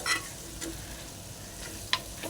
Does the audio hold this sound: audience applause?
no